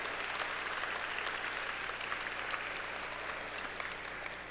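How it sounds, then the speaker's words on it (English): Applause from the audience at an awards dinner and ceremony, a steady, fairly distant wash of clapping with no talk over it. "I'd like to give them a big round of applause"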